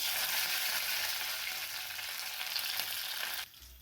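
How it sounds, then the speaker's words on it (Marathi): Garlic cloves and curry leaves sizzle loudly in hot oil for a tadka for a red chilli thecha, a dense, close, hissing fry that drops off sharply near the end. "याला छान असं तडका बसू द्यायचा आहे नंतर यामध्ये थोडंसं कढीपत्ता घालायचा आहे"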